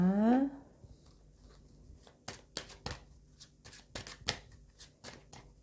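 Tarot cards being shuffled, a series of crisp papery riffles and flicks in irregular bursts, close and quiet, after a brief rising tone at the very start, with no speech.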